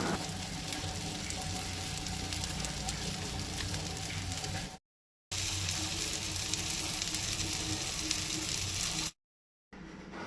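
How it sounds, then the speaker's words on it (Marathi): Pomfret fish shallow-frying in a pan for a Goan thali, turned and browned on both sides: a steady close crackling sizzle that runs throughout, with two short silent gaps. "अशें दोनूय सायडींनी बरें चरचरीत भाजून घेवंक जाय नुस्तें."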